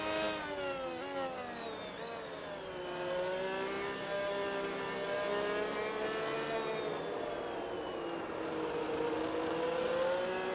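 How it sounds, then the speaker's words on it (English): A high-revving race car engine in a racing video game at Silverstone, run in reverse in wet, rainy conditions, whines loudly and steadily with rising and falling pitch as it shifts through gears, continuous and close. "Enjoy the sound of this engine."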